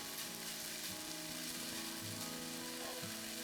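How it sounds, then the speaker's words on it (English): Bacon sizzling steadily in a warmed pan as it starts to render for a crispy pork schnitzel with mushroom gravy, a continuous faint crackle with no voices. "our bacon is going into the pan"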